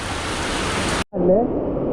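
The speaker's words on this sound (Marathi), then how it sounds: "आम्ही एका शेडमध्ये थांबलो आहे भयंकर पाऊस आहे" Dense, steady roar of heavy rain for a second, then a brief cut and rain continuing more muffled from inside a shed, with a voice speaking over it.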